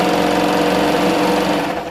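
An overlock serger runs at speed as it stitches skirt fabric, giving a continuous, dense mechanical whir. It stays close and steady for the whole stretch, with no pauses and no voices.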